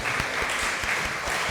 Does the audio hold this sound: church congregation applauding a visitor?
yes